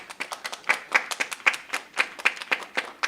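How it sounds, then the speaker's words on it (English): A small number of people clapping over a Zoom call during a youth dialogue session, producing distinct, irregular individual claps that sound close and thin, with no talk. "Give her a round of applause."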